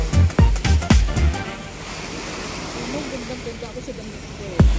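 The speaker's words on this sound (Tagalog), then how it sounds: "Bakit biglang nag-ingay yung ano, tubig?" Sea waves wash against the shore at Sembawang in a steady rushing roar, opening with a few heavy low thumps before settling into continuous surf noise.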